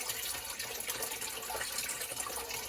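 Water gushing steadily out of a pond filter being flushed, a continuous splashing rush heard up close with no talking.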